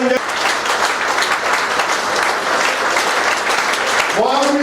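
A crowd claps steadily and loudly during a trip to Digha, a dense continuous patter from start to finish, with a voice coming in over it at the very end.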